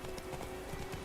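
Hooves clip-clop in a quick galloping rhythm as a horse runs in the video game The Witcher 3, set against a dense, steady wash of game sound.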